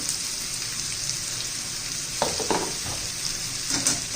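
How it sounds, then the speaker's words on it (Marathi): Bottle gourd curry sautéing with turmeric, coriander powder, garam masala and salt, a steady close sizzle with a few distinct spatula scrapes and knocks against the pan, with no talk. "चांगलंसं परतून घेऊया"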